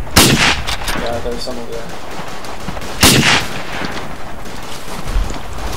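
Rifle shots crack in the WWI shooter Verdun. One loud report comes at the start and another about three seconds later, with scattered distant gunfire between them. People talk quietly over the battle noise.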